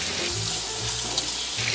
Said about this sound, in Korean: 자, 이렇게 데쳐진 뼈는요, 찬물에 한번 이제 헹궈서